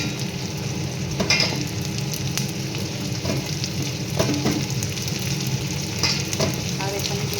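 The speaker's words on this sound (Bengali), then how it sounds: "এবারে দিয়ে দেবো ক্যাপসিকাম" Chopped capsicum is added to a hot pan of chilli chicken and hisses in a steady, loud sizzle, with frying crackle and scrapes of stirring.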